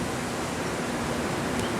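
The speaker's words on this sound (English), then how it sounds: "Can you hear the wind?" Wind buffets an outdoor microphone fitted with a foam cover on a stormy day under a tornado watch, making a steady, loud, broadband rushing roar with no pauses or voices.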